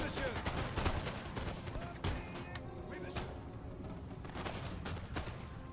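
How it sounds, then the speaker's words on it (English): Musket volleys and cannon fire from a Napoleon: Total War battle crackle and boom continuously in dense, overlapping bursts, with a steady battlefield din throughout. "our line is open fire"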